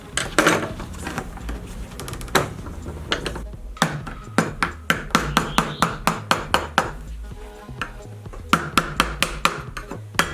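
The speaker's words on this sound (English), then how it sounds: "Using a screwdriver and a hammer, I take out the glazing beads from the window frame." Sharp hammer taps on a screwdriver removing glazing beads from a window frame strike repeatedly in irregular bursts, close and loud, with brief pauses between clusters of knocks.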